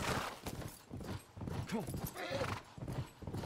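Video-game horse hooves from The Last of Us clip-clop in a steady rhythm during a ride, with a short whinny partway through and a voice speaking over the sounds.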